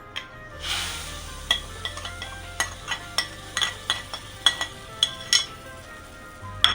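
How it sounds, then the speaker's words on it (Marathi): Roasted semolina is tipped into a pan of pineapple sheera and stirred, with a soft pouring rush followed by a regular series of metal spoon clinks and scrapes against the pan, close and clear. "आता आपल्याला याच्यामध्ये रवा भाजून घेतलाय तो पण टाकून घेऊ"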